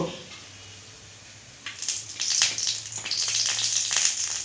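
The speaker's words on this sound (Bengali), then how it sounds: "কড়া গরম হয়ে গেছে তেল দিয়ে দিব" Oil poured into a hot wok (kadai) at home, a quiet pause followed by a sudden rising sizzle with crackling spatter that keeps going steadily and close by.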